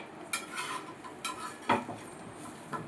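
Egg-coated raw banana bajji flipped in a shallow frying pan with little oil: a few light scraping and tapping clicks from the spatula over a soft, steady sizzle, close by, with no talk.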